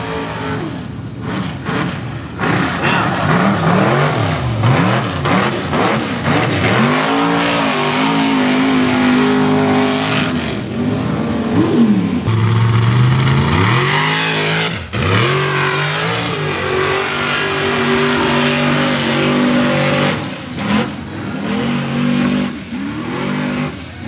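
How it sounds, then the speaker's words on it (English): A racing truck engine at Bithlo short-track racing revs loudly and continuously, with rising and falling pitch sweeps as the truck accelerates and lifts, close and dominant throughout. "Sean Gould driving a very, very capable truck"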